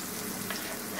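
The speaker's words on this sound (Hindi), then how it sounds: "और अब मैं इसमें ये फ्राइज ऐड करने लगा हूँ" Steady, dense sizzle of potato fries deep frying in hot oil, a continuous crackling hiss filling the whole moment without voices.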